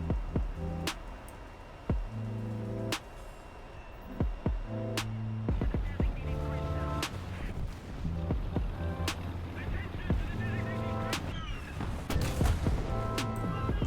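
Cannon shots from a Merkava Mk.1 tank in the War Thunder video game ring out as sharp, heavy blasts every second or two, over a constant droning tank engine.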